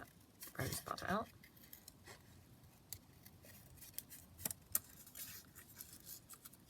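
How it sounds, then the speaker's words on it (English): Scissors fussy-cut a small paper rosebud from a collage page, giving a run of close, crisp snips with quieter rustles between them and a brief voice near the start. "so just fussy cut that rosebud out"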